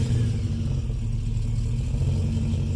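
A Chevy Colorado truck with a junkyard LS V8 swap and mostly factory exhaust runs at a steady, deep, throbbing idle, close and alone.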